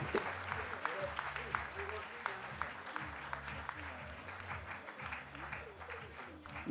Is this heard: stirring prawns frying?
no